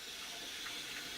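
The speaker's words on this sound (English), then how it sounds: "So we'll probably want to wash them" Tap water runs steadily into a sink while greens bought cheaply at a Chinese market, a little old, are washed; a continuous close hiss with no voices.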